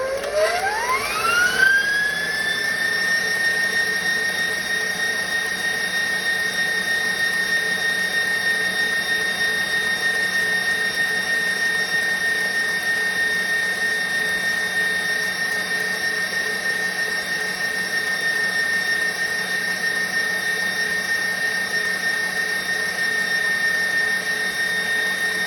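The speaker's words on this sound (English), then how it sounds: "it's going to get noisy because I'm going to beat it on high" Electric mixer whipping buttercream on high speed, a steady loud whine that ramps up over the first two seconds and then holds constant, close and alone with no talk.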